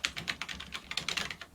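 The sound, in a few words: typing an email address on a laptop keyboard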